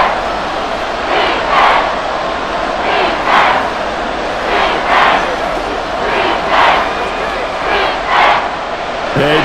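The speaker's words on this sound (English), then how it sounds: "Crowd on their feet." Stadium crowd in the video game Madden NFL 24, a Tennessee Titans versus Tampa Bay Buccaneers match, roars steadily, swelling in repeated rhythmic surges of cheering while commentary talks over it.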